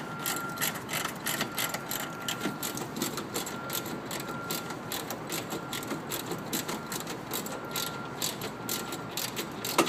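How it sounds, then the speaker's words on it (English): A ratchet wrench clicks rapidly and steadily while snugging up the nuts that hold a body in place, a dense run of close, even ratchet ticks with no talking. "Snug up the various nuts holding the body in place."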